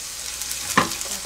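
Green onion stir-fries briefly in a hot pan, a soft close sizzle broken by two quick scraping stirs.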